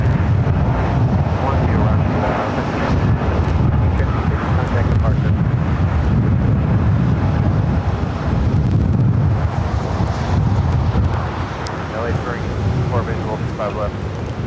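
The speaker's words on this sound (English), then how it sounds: "now short final for 24 right. The 739 coming up from Doha on this A350 1000" A Qatar Airways Airbus A350-1000 on short final to runway 24 right at LAX, a loud broad jet roar heard outdoors through heavy wind buffeting on the microphone, with a voice talking over it.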